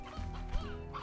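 Chickens clucking in a video game, a brief burst of short cackling clucks over a low droning background hum.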